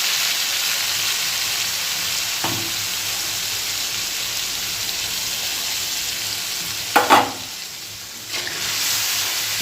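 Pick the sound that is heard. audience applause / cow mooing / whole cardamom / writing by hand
whole cardamom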